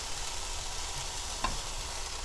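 Kimchi stew with beef shank simmers in a pot, making a continuous dense bubbling hiss with a brief louder gurgle near the middle, close and even, with no talking.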